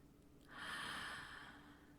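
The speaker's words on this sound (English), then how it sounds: "take some deep breaths" A single slow, deep inhale through the nose, close and soft, rising after a moment of quiet and holding for over a second before fading.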